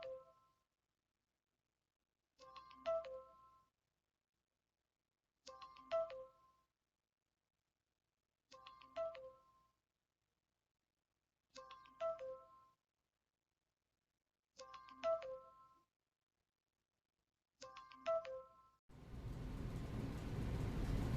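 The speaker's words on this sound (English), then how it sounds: "Sorry about the ringing." A phone ringtone repeating seven times at regular intervals of about two and a half seconds, each ring a short electronic chime, quiet and alone, before a burst of rushing noise at the end.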